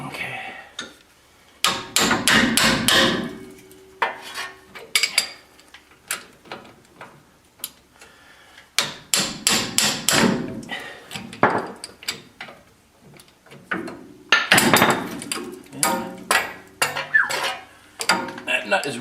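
Metal striking metal on a stuck suspension bolt of a Ford E-350 van, several bursts of sharp clanking hits with pauses between, close and loud with some talk.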